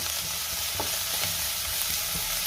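Spices and chili flakes sizzle loudly in hot oil in a pan, with rhythmic scraping stirs cutting through the continuous frying hiss.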